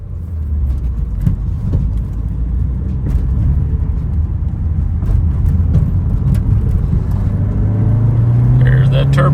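A 1986 Mazda 626 GT Turbo Coupe with a five-speed manual drives off, its engine a steady, loud, close rumble that rises in pitch toward the end as it accelerates, with some talk over it.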